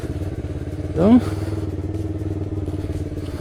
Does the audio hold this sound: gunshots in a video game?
no